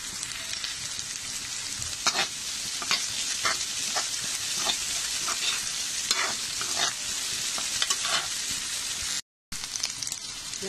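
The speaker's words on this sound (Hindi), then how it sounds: "जो हाफ कप कॉर्नस हैं वो भी इसमें डाल लेंगे और थोड़ा सा सॉटे कर लेंगे बीन्स कैरेट के साथ में" Sweet corn, beans and carrot sautéing in a pan for sweet corn soup, a steady close sizzle with repeated scraping stirring strokes throughout and one brief dropout near the end.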